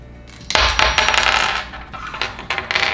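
Steadicam counterweights are unscrewed and removed by hand, producing close metallic clinks, clacks and rattles of loose weights knocking together in quick, irregular succession.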